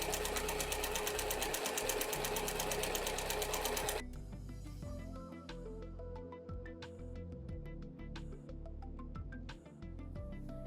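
A sewing machine runs in a fast, continuous burst of rapid stitching while quilting straight lines on a Cathedral Window tote, then gives way to quieter, intermittent short runs and clicks.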